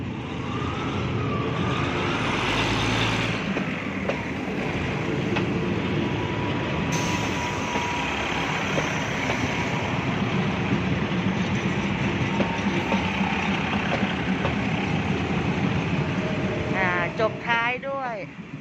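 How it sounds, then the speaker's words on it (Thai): A train rumbles steadily past nearby, a continuous loud roar of rolling wheels, with a voice speaking over it and a rising electronic tone near the end. "ขบวนรถไฟนะคะ มาแล้วค่ะ"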